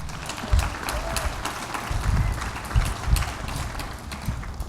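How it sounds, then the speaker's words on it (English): An audience at a university disability awareness symposium keynote applauds steadily for nearly five seconds, a dense, even wash of clapping with a few heavier low thumps mixed in. "let's give a big round of applause to them too"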